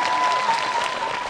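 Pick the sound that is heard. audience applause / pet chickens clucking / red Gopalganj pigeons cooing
audience applause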